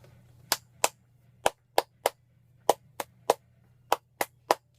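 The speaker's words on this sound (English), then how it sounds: "Can you clap just that much?" Twelve sharp hand claps ring out in an uneven rhythmic pattern, close and crisp over a low steady hum, with no talking.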